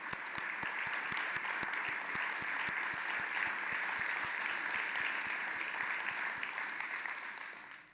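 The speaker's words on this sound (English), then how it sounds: "A round of applause for them too." A graduation audience applauds speech honorees with a dense, steady wash of many hands clapping that carries on evenly and tapers off at the end.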